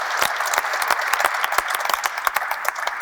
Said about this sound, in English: Take an applause for him.